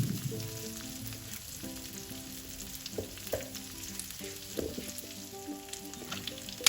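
Cabbage thoran sizzles in a pan with chilli, curry leaves and turmeric powder, a strong close frying hiss broken by intermittent stirring scrapes and taps.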